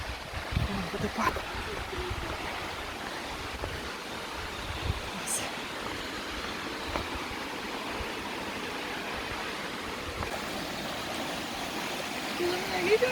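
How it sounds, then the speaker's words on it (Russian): Klokovsky waterfall on Sakhalin gives a steady, moderately distant broadband rush of falling water, while a voice briefly speaks over it. "Водопад."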